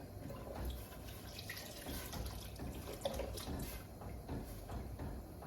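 Water pours from a container into a pot of chili made with beef stock, a steady splashing trickle with small irregular sloshes, soft and close, lasting several seconds without voices.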